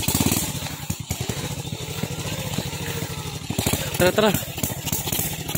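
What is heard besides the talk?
motorcycle riding on sand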